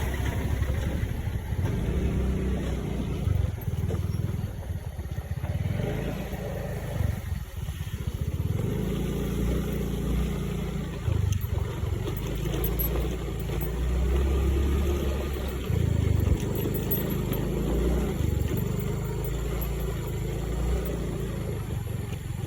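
Motorcycle riding along a rough village road toward Desa Aek Manggis, its mid-pitched engine droning steadily and close for the whole stretch with slight rises and falls in revs, no talking.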